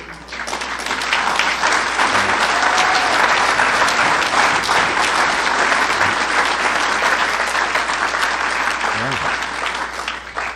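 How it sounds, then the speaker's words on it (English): Large audience at a Narcotics Anonymous gathering giving loud, sustained applause that swells in and stays full for about ten seconds before easing slightly at the end, with scattered voices mixed in. "you're clapping for yourselves"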